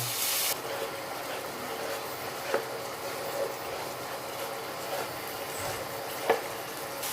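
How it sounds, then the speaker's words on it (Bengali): Water hits frying spices in a hot pan with a sharp burst of hiss, then settles into steady sizzling broken by a few clinks of stirring. "অল্প জল দিয়ে দেব।"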